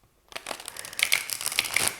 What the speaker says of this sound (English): I feel like I need to riffle shuffle this deck.